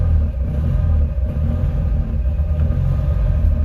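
A car engine that has just fired up idles in a steady, loud, low rumble close by, running evenly with no talk over it.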